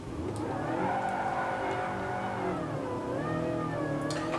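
A car engine revs and holds high in Gran Turismo Sport while drifting on a T300RS wheel, its pitch climbing and dipping with gear changes, loud and continuous with no one speaking.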